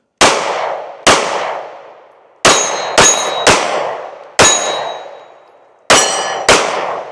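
Seven sharp shots from a Taurus GX2 pistol, each ending in a bright metallic ring off 8-inch steel plate targets, loud and close, fired in quick uneven pairs and singles with decaying clangs between.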